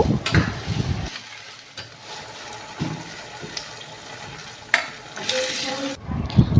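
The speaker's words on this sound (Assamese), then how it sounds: "আৰু এতিয়া গোটেইখিনি এবাৰ লৰাই চাইছোঁ।" A spoon stirs chilli chicken sauce thickened with cornflour water in a pan, giving soft scraping and sloshing strokes over a faint sizzle, with louder bursts of stirring near the start and end.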